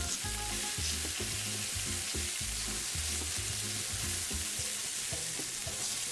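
Meat for a Brazilian feijoada stew sears in a pan with a dense, steady sizzle that never lets up. Low, rhythmic tonal thumps pulse beneath it throughout.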